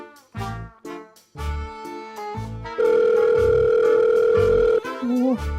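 An unanswered telephone call rings through a handset, a series of short tonal beeps followed by a long sustained tone, then a few more brief tones.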